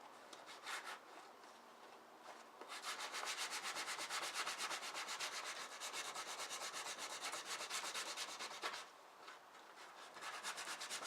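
Coarse-grit sandpaper rubbed by hand over wood, a dry rhythmic scratching in quick back-and-forth strokes, close and fairly quiet, with brief pauses between passes.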